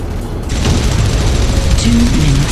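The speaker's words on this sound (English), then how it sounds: "I'm taking heavy fire!" Heavy gunfire in an Unreal Tournament 3 Warfare match on the Islander map, a loud, dense, continuous roar of firing and rumbling blasts with a brief tonal game sound near the end.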